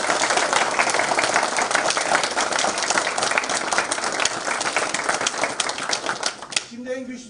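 A crowd at a store opening claps loudly and steadily for colleagues, the applause sustained for several seconds before cutting off as a voice speaks.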